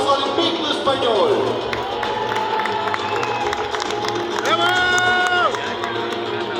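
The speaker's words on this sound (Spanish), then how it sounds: "Fuerte el aplauso al Invicto Español" A crowd at an amusement park in Puebla cheers and claps for a winner, a busy roar of voices and applause mixed with shouting children, whistles and tonal sounds from the surroundings.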